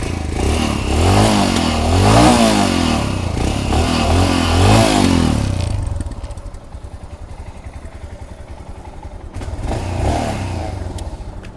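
A 2024 Royal Enfield Scram 411 motorcycle with 2,000 on the clock starts and revs hard in several loud, rising bursts for about six seconds, then settles into a lower, steady idle with another brief swell near the end.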